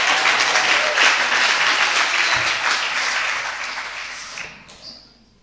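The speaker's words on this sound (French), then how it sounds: "Est-ce qu'on peut applaudir pour Anderson qui fait un travail extraordinaire?" A congregation at a church service claps for a staff member in a dense, steady round of applause that holds strong for several seconds, then thins and fades out near the end.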